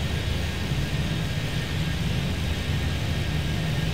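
Steady broadband jet roar of an airliner taking off in the air-traffic-control game Airport Madness 3D at San Francisco airport, a constant wash of engine noise with a low rumble, loud and unbroken with no talk.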